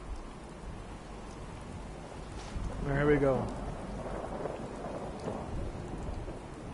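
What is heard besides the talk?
rain and thunder in a video game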